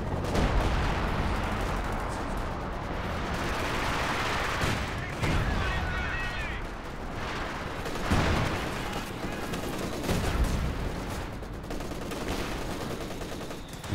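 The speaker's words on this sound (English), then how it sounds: "Machine guns continuing to force retreats." Machine gun bursts and battle gunfire in Company of Heroes 2, rattling continuously through a dense mix of distant shots and rumbling effects, with a voice talking over it.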